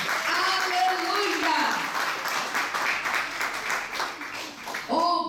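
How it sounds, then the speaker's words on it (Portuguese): A church congregation applauds after a sermon, a continuous wash of many hands clapping at moderate loudness. Voices and cheering rise over the clapping, and a voice speaks clearly at the end. "Dá uma salva de palmas."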